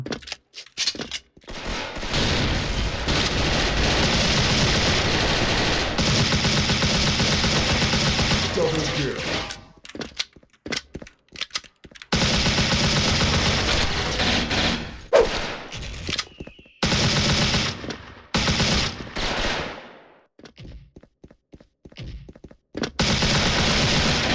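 MP5 submachine gun fire in the online shooter Special Force: long, loud automatic bursts, broken by short silences and clipped stops, then further shorter bursts.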